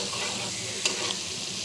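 A spice paste frying in a pan for a mustard-style bata fish curry, with green chilies added, gives a continuous close sizzle and hiss, with a brief clink of a utensil partway through and no voices.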